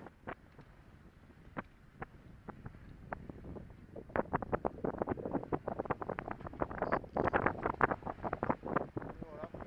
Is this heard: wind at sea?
yes